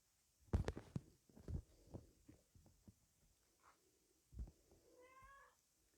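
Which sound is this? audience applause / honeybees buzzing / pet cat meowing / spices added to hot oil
pet cat meowing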